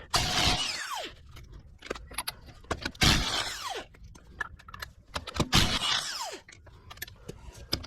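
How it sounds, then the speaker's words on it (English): Splined lug nuts are loosened with a lug nut key during front brake pad replacement on a Camaro or Firebird, giving close metallic clinks, ratcheting clicks and rattles in uneven bursts with no talking. "I'm using these splined lug nuts, so I've got to use one of these keys"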